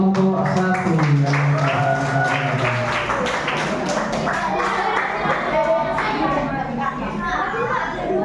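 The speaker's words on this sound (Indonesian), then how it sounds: "tepuk tangan untuk kelompok 1" A sixth-grade primary school class claps for a student group before its presentation, rapid, close handclaps mixed with children's chatter and excited voices, all busy and overlapping throughout.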